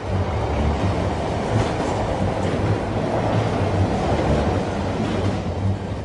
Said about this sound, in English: The rattling and vibration on the train became very violent.